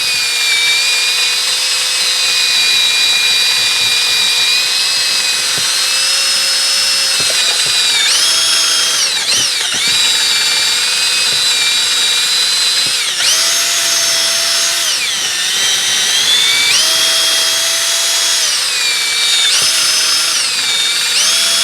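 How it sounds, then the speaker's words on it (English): A DeWalt cordless drill whines continuously with a spinning cone wire brush, its pitch rising and falling as pressure changes, loud and close, during a Polaris Sportsman/Ranger 500 valve job. "a DeWalt drill with just a little cone wire brush"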